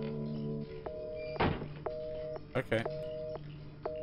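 A telephone in the horror game Resident Evil 7: Biohazard rings in repeated electronic tones spaced about a second apart, with a few thuds between them and a brief spoken word.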